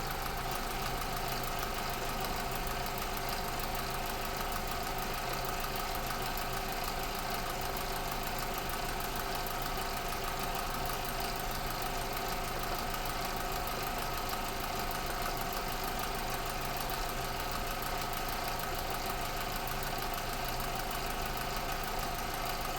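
A car engine runs with a faint, steady mechanical hum and no clear rise in revs while a car battery charger is connected.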